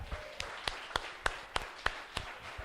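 Faint, distant congregation applause at a church service, with sharp claps falling in an even, steady rhythm.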